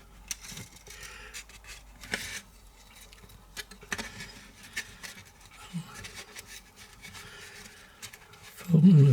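Paper backing being peeled and folded off an adhesive strip while fitting lighting in a model railway carriage, giving soft rustling and rubbing scrapes with brief crinkles, close and quiet, ending in a louder handling bump.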